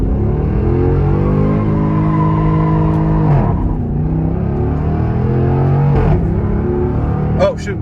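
A Dodge Durango SRT's engine revs hard in long rising and falling sweeps during burnouts, loud and close, with a sharp squeal near the end.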